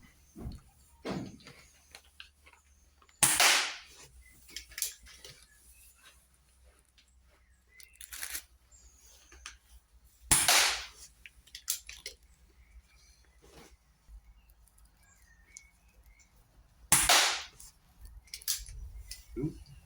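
A Reximex Mito air rifle fires several spaced, sharp shots at close range over a quiet background, with faint handling and mechanical clicks between them.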